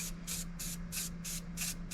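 A spray can paints an old wheeler in short, evenly spaced hissing bursts, about seven in two seconds, close and fairly quiet over a steady low hum.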